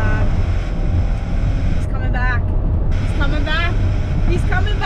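A car pulls away in first gear on a traction-control run testing heavier wheels, its loud, steady engine drone filling the whole stretch with brief rising whistles and chirps on top.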